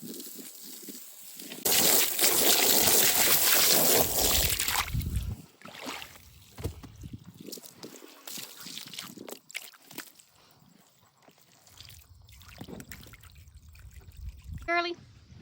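Water poured for chickens pours and splashes loudly for a few seconds, then trickles and dribbles intermittently, with quieter handling noises and a brief rattle near the end.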